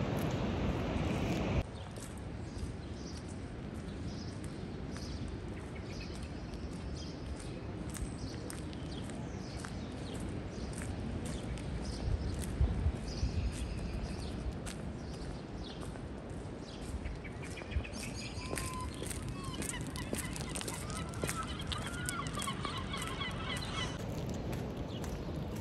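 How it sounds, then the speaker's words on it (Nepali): Birds call on and off through a quiet outdoor morning walk, with soft chirps and a honking, goose-like call over steady ambient noise, fairly faint and unbroken by talk. "चराहरू कराएको सुनिन्छ नि त"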